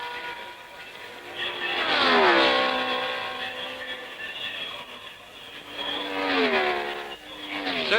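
A Porsche race car at the French Grand Prix at Rouen roars past with a rising then falling engine pitch, followed by a second pass a few seconds later, loud against a steady background din.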